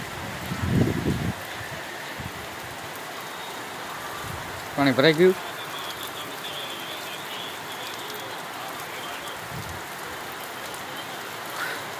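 Steady rain falls outside a village house, a continuous even hiss throughout, with a few brief nearby bumps and a short patch of talk in the middle.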